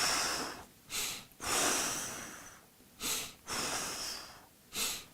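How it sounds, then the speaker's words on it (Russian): Someone doing a breathing exercise takes long exhales and short inhales, four audible breath cycles in a steady rhythm, close and fairly quiet with no talking. "делайте длинный выдох и короткий вдох"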